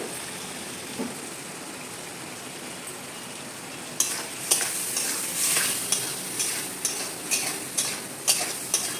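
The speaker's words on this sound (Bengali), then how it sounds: "এবারে দিয়ে মশলাটাকে একটু কষাতে দেবো" Spice paste (masala) sizzles and is stirred in a pan for a hilsa fish curry: a soft frying hiss at first, then louder, close scraping strokes of a spoon repeating at a steady rhythm.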